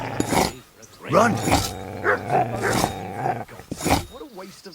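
A dog growls and snarls in the video game Kingdom Come: Deliverance II, rough rising bursts near and fairly loud, broken by short pauses, with a voice speaking between them.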